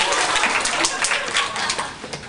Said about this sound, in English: This is the first time you get actually get applause for doing a lecture.